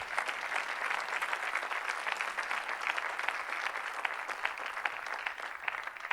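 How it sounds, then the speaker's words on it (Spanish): A church congregation applauds steadily at an evangelistic service, a dense, even wash of many hands clapping at moderate distance, sustained throughout with no voices over it. "Dele fuerte aplauso a Cristo."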